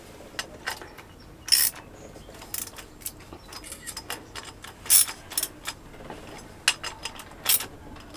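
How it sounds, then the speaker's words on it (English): Bolts on a new pulley on a Kubota circulating fresh-water pump for a Universal M2-12 diesel engine are tightened with a wrench, producing scattered metallic clicks and ratchet-like ticks in small clusters, fairly close and crisp, with no talking. "I'm basically making sure I tighten these 4 bolts properly"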